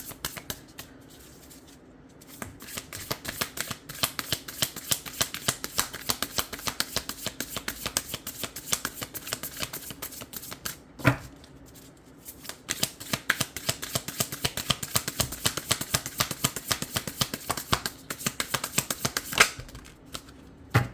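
Tarot cards shuffled continuously by hand before a single card is drawn, a dense stream of rapid flicking and riffling close by, steady for about twenty seconds with a couple of brief pauses and no talking.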